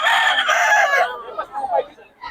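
A rooster crows once, loud and close, its long call trailing off into a few softer clucking sounds.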